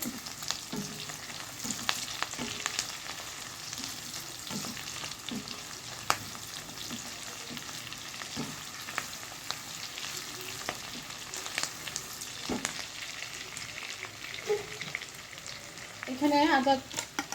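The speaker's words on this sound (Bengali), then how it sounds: "কারি পাতাটাকে দিয়ে একটু ভেজে নিতে হবে" Curry leaves fry in spice paste for a chicken dish, producing a quiet continuous sizzle with scattered scraping stirs and a sharper crackling burst near the end.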